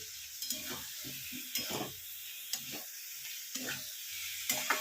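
A spatula scrapes and clatters repeatedly against a pan as raw potato pieces are stirred over a faint, constant sizzle, close by with irregular strokes.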